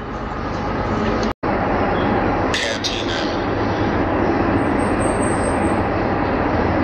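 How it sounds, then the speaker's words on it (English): A train at The Gorge rumbles past in a steady, loud, broadband roar that holds for several seconds, with a brief dropout and a faint high squeal late on. "Your train going by."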